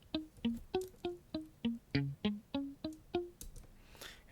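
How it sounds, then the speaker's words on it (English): Unprocessed electric guitar playing a run of about twelve palm-muted notes, each a short plucked thump with a quick decay, in a steady even rhythm, close and dry. "electric guitar muted notes"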